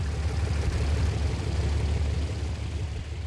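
Navy Curtiss NC flying boat engines roaring steadily as the throttles open for a takeoff from Jamaica Bay, a loud, sustained low drone with rough propeller throb.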